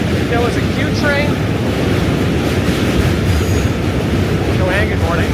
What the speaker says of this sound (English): There was a Q train.